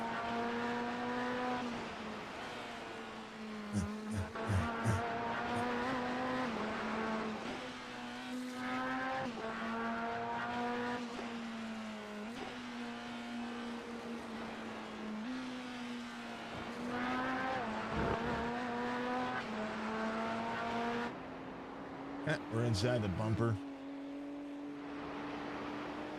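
A GT3 race car engine in iRacing drones steadily from an in-car bumper view, its pitch rising and dropping through gear changes over a long stretch, with brief crunchy bursts of contact or kerb noise and a single short spoken line.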